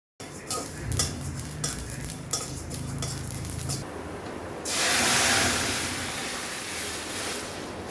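Cumin and black cumin seeds rattle and skitter in a dry wok with light scraping and stirring, then a louder hissing sizzle swells partway through.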